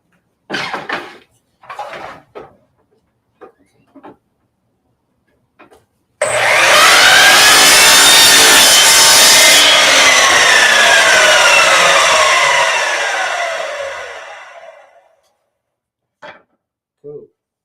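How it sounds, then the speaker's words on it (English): A chop saw cuts wood in one loud, sustained whining pass lasting several seconds before spinning down. Short bursts of speech come before and after the cut. "About to kick the chop saw on."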